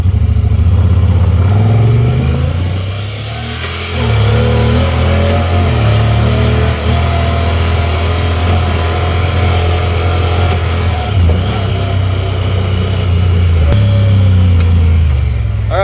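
A Talon side-by-side with live valve suspension runs a lap, its engine droning loud and close throughout, surging and easing as it accelerates over the course.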